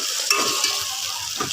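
Tomatoes being sautéed in a pan, a soft continuous sizzle with a few brief scrapes of stirring, fairly quiet and close, with no voices.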